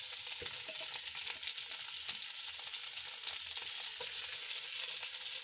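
Boiled potato pieces and chicken samosa filling fry in a pan with a soft, continuous sizzle that holds steady throughout, with faint stirring scrapes and no voices.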